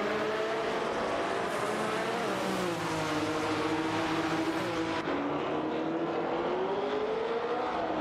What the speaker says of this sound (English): Serarenbot, in the Porsche 908 Later Coupe, goes head-to-head with Nukembokem in the Ford GT40 M28